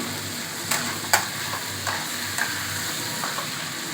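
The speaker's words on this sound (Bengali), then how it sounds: "এই তরকারিটা যত কষবেন ততই কিন্তু টেস্টটা ভালো আসবে জল কম দিয়ে তা ভালো করে কষতে হবে" Mushroom curry stir-fried in a pan with little water, a continuous soft sizzle with several light scrapes and taps of a spatula against the pan, no voices.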